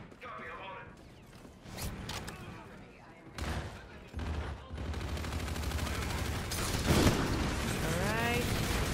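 Shotgun fire and other gunfire in the video game Call of Duty: Infinite Warfare, with bursts and booms sounding repeatedly over continuous game action while players talk throughout.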